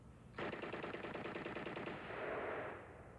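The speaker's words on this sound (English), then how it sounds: "even from a machine gun like this Uzi" An Uzi machine gun fires one sustained rapid burst of closely spaced shots, loud and alone, lasting nearly three seconds before tapering off.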